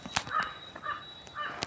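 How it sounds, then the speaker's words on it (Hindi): A crow caws near a tree-lined road, three or four harsh calls spaced about half a second apart, fairly close, with a faint steady tone and no talk. "केवल एक कौवा की आवाज़ आ रही है, काँव काँव काँव।"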